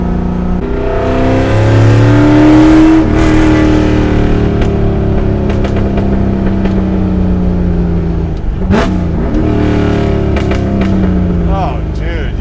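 A Shelby GT350 V8 engine revs loud and close, holding a steady roar with rising and falling pitch, with sharp crackling backfire pops near the end; a person talks over it.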